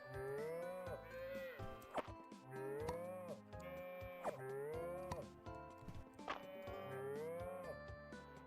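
Cows in the farming video game Fields of Mistria moo repeatedly, a series of drawn-out, rising-and-falling calls about every second, with soft clip-clop steps and light game sounds beneath.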